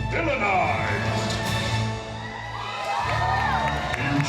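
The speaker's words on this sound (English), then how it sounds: "Clap, stomp, and scream. Show who you love." A dense crowd at a Disney villains stage show cheers, screams and whoops continuously, loud and sustained, with a brief dip midway before swelling again. Music plays underneath.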